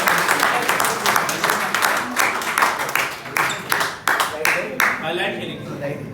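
An audience at a retirement farewell party breaks into sustained applause to welcome a speaker, dense clapping that swells and pulses throughout over a busy, reverberant hall.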